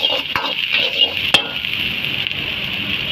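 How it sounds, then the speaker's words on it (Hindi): Chopped ginger and finely cut green chillies sautéing in a pan make a steady sizzle, with a few sharp clinks of a spoon stirring against the pan near the start. "तो दोस्तों इसको अच्छी तरह सौते कर लेंगे"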